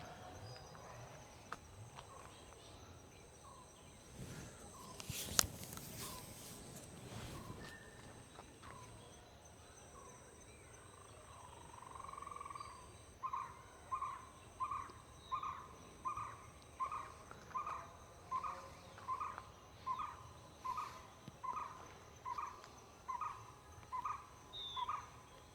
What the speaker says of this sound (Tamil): பூச்சி சத்தம்